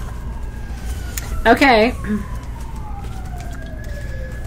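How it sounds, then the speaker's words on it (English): A wailing emergency siren sweeps in pitch steadily across the whole stretch at moderate level, while a person briefly speaks over it in a live sales broadcast setting. "Cue siren."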